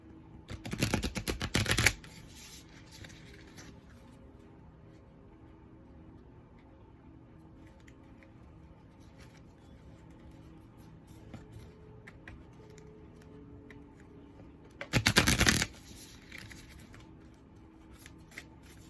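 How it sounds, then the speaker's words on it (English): Minor arcana tarot cards are shuffled in two brief riffling bursts, one at the start and another near the end, with quiet rustling in between. "This is the minor arcana, so I'm gonna just shuffle these."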